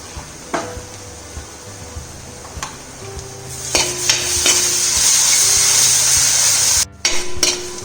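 Ginger garlic paste sautéing with softened onions in a pan for Kerala chicken roast: a steady close sizzle with a spoon repeatedly scraping and knocking against the pan, growing louder as the stirring picks up.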